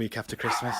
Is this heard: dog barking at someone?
yes